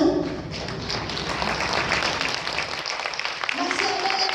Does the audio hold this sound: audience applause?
yes